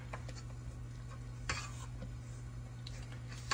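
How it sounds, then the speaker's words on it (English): A spatula stirs pumpkin cake batter by hand in a bowl, making soft, faint scraping and a light knock near the middle over a low, steady background hum. "I'm going to take my spatula and just kind of stir that up a little bit"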